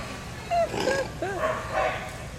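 Dog on a jumpers-with-weave agility run at an outdoor trial in Pacific, Missouri, giving a few short yips and whimpers amid crowd and handler chatter.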